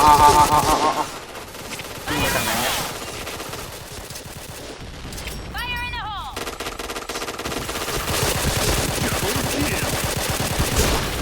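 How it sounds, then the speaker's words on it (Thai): Game gunfire in Point Blank, from rifles such as the K2C and EBR, comes as dense bursts of loud close shots across the whole stretch. Short pauses break them up, and game effects and some voices sit in the mix. "ต้องค่อยๆยิงนะปืน"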